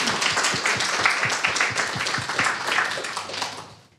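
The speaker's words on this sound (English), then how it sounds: "they deserve the first round of applause" An audience at a keynote lecture claps at a brisk, even pace, moderately loud, with the applause fading out toward the end.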